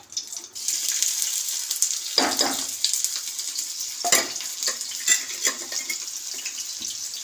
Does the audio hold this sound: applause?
no